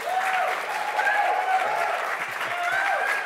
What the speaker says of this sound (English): Now that I can just say your name and claps happen now.